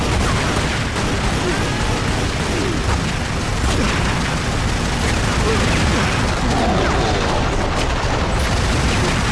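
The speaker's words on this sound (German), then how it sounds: "Blödes Maschinengewehr." Machine gun fire inside a ruin in Tomb Raider Legend, a dense, continuous rattle of shots with mechanical clatter, loud and steady throughout, with a voice talking over it.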